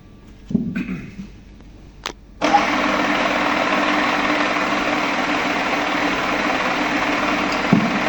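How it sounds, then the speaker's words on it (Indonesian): Milling machine spindle started up at a set RPM for spur gear cutting, a few clicks and knocks, then a sudden steady whirring hum that runs on evenly and fairly loud. "yang harus kita lakukan putaran dulu, ya, yang mana RPM-nya tadi sudah kita atur"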